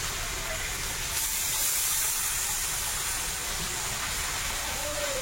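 Water poured into a pan of frying greens with potato and eggplant bursts into a loud, continuous hiss of steam and sizzle, close and steady throughout, with no talking.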